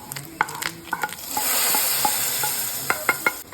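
Kerala-style coconut curry (ozhichu koottaan) coming to a boil in a pot, a steady bubbling hiss broken by several sharp spoon taps and stirring knocks, close and moderately loud.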